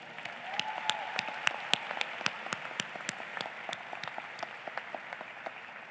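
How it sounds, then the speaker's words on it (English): Sparse, scattered clapping from an audience at a university convocation ceremony, fairly faint and distant, with individual claps standing out over a soft hall ambience. "Now we can clap for all of them."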